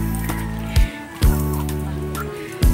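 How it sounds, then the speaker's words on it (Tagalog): Chickens in a small backyard coop behind a house, with a few loud, abrupt clucks or squawks rising over a steady, dense bed of low rumbling sound. "marami siyang alagang manok dyan"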